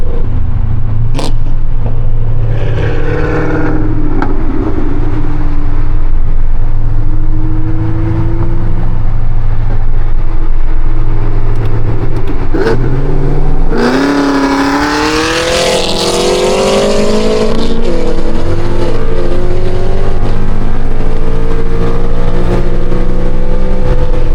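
Catless Mustang 5.0 or Camaro ZL1 V8 engine, very loud and close, droning steadily and then ripping through a sharp high rev before settling back to a deep rumble, with no talking.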